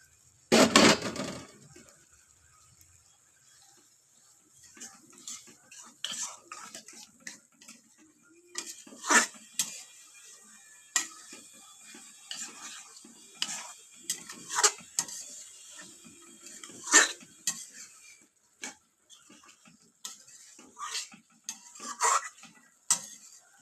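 Spiced chana dal with green chilli, fried coconut and cashews stirred in a pan, with scattered metallic scrapes and clinks of a spoon against the pot, irregular and fairly close, no talking.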